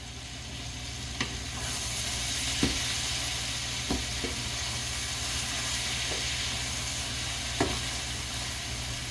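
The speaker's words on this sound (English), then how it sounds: "So before I add that, I'm just going to give this a stir." Shimla mirch paneer sabzi being stirred in a pan, a steady frying sizzle and hiss throughout with a few soft scraping knocks of the spoon, close and alone.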